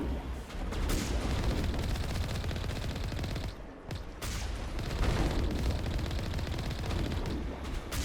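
Dense, continuous heavy weapons fire from a tank in Mass Effect 1, booming cannon blasts and rattling bursts almost without pause, loud and close, with one short lull partway through.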